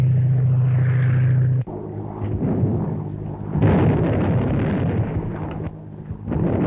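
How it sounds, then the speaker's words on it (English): Old 1935 film soundtrack with tear gas bombs bursting around horseback riders, a loud, dense rumbling roar of blasts and noise after a steady low drone cuts off abruptly. "Landing tear gas bombs all around them, but they don't seem to have any effect."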